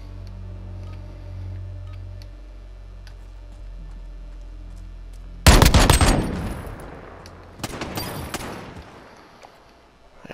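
Gunfire in a Call of Duty Modern Warfare 2v2 match: a sudden loud burst of rapid automatic shots, then a second shorter volley after a brief gap, over quiet game ambience.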